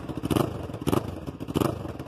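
A Yamaha R3 motorcycle with an aftermarket anodized exhaust revs in three sharp, evenly spaced bursts, loud and close, each a throaty blip rising and falling back to idle.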